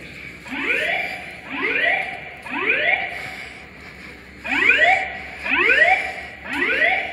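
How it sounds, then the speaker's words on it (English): Fire alarm sounding inside Springfield, Massachusetts Union Station train station, a loud repeating rising whoop-like tone in regular pulses about once a second, with a short gap partway through, echoing in the large hall. "And the fire alarm's going off over here as well."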